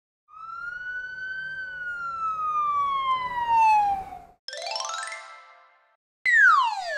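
A cartoonish police car siren wails in a long, loud downward sweep, followed by two shorter rising and falling electronic siren bursts separated by brief silence.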